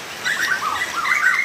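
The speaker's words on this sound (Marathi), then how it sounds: "इथं कोकिळा पण आहे, चक चक चक चक करते" Asian koel calling outdoors, a short run of bright, repeated chirping notes, moderately close and heard alone without talk.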